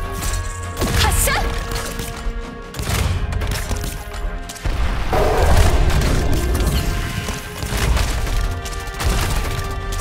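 Weapon fire and impacts in the game Arknights: loud, dense bursts of booming blasts and splintering crashes over a continuous busy game soundtrack, with a brief voice line.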